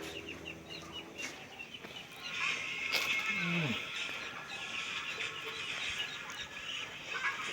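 Chickens cluck faintly in the background, with a brief rising squawk midway over a steady ambient hiss.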